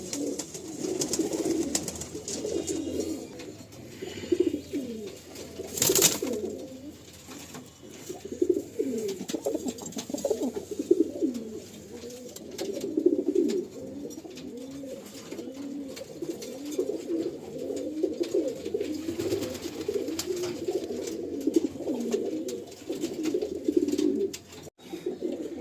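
Kaldama pigeons in a loft coo steadily and continuously, a dense, overlapping murmur of soft calls at moderate volume with no voices.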